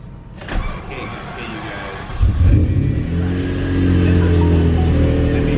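A 1988 Lamborghini GT car cranks and fires up around the two-second mark, then settles into a steady, moderately loud idle with a broad low rumble, preceded by brief clicks and handling noises.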